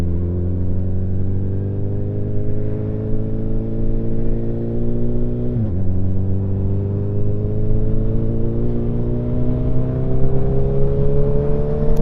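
A Suzuki motorcycle ridden steadily on a speedometer calibration test, its engine droning with a steady hum that rises gradually in pitch, with a brief dip from a gear change midway, loud and close throughout.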